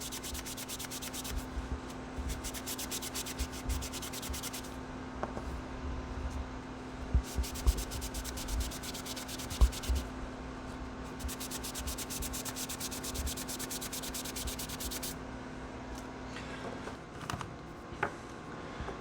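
Knife handle scales and tang being wiped with alcohol after sanding, heard as soft rubbing strokes that come in bursts with pauses between them, plus occasional light taps and a steady low hum behind.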